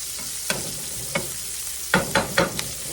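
Hot grease with onions sizzles steadily in a skillet, a constant close frying hiss broken by several sharp utensil scrapes and taps, a few spaced apart and then a quick cluster of them.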